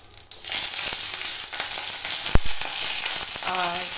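Green chilies hit hot oil in a wok, bursting into a loud, steady sizzle with crackles and spatters, punctuated by metallic clinks of stirring.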